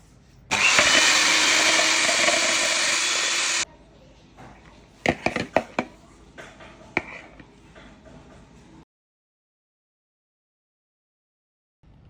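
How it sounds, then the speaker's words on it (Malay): An electric mixer beating eggs with vanilla essence whirs loudly and steadily for a few seconds, then stops, followed by scattered clinks and knocks before silence. "kisar 3 biji telur bersama 1 sudu teh esen vanila hingga kembang"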